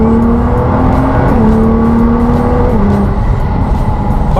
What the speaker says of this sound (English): cruising at high speed with the GTR feels like this.